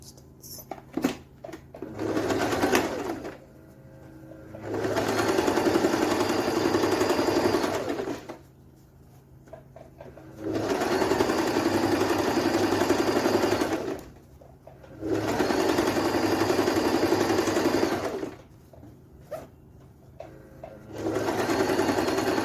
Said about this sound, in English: We're going to bring it up here to sew.